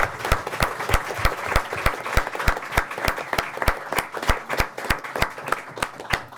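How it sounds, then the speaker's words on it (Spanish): An audience at a school-discipline book presentation claps in a steady, rhythmic unison beat, sharp regular hand strikes close and loud. "Un aplauso para el autor y para los presentadores."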